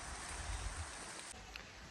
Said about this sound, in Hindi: हल्की हल्की बरसात चालू हो गई है